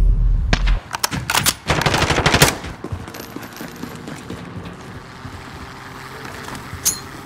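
Call of Duty: Modern Warfare weapons fire in loud, rapid bursts of automatic gunfire over the first few seconds, then fade into a low rumbling background with a distant single shot near the end.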